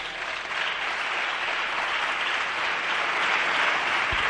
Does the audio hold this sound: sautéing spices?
no